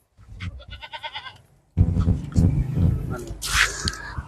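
Goats and bucks in a livestock pen bleat loudly and close by. A wavering bleat comes first, then after a short gap several overlapping bleats follow, with some stamping and rustling underneath.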